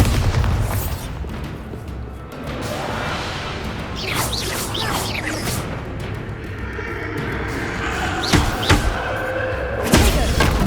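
Bombarda blasting spell explosions in the Hogwarts Legacy video game: a steady rumbling game soundscape punctuated by several sharp booming blasts and crashes, the loudest near the end, with no talk.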